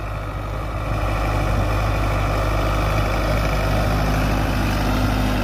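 A Sonalika Tiger 55 tractor pulls a tiller in a field, its engine giving a steady, deep, throbbing drone that stays loud and even throughout with no talk.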